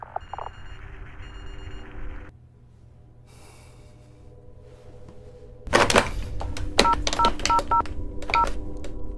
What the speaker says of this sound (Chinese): 为了自保英华只能亲自拨通了电话